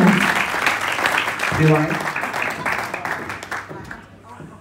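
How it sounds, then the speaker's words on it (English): Audience applause at a community awards evening, a steady wash of clapping for several seconds under voices, gradually fading toward the end. "Give her a round of applause."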